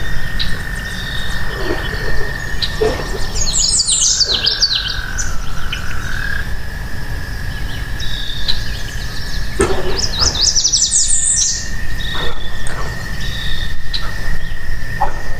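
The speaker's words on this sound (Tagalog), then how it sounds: "Kaninang ingay ng ibon kaya nakapag-video ako eh." Birds calling beside water near a condo, bright chirping bursts in two clusters over a steady loud bed of croaking frogs and insect-like buzz, with no talk.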